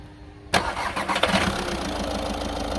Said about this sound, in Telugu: ఒకసారి ఇంజిన్ కూడా స్టార్ట్ చేసి చూపిస్తాను మీకు.